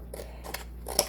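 Scissors snip through paper card for a handmade greeting card sign, a few short quiet cuts spread across a second, with the last snip the sharpest and loudest.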